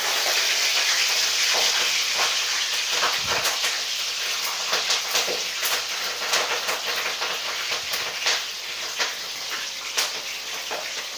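Green chillies broken up and frying in hot oil make a dense, hissing sizzle with frequent sharp spits and crackles throughout, close and loud.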